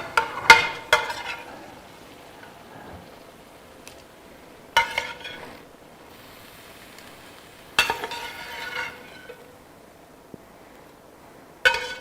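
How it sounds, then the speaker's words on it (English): Meat goes into a cooking pot with a few separate clattering, sizzling bursts of chunks dropping in and metal clinks, spaced a few seconds apart over quiet background. "we'll get all the meat in the pot here"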